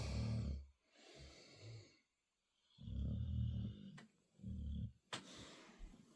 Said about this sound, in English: You're quite happy snoring away there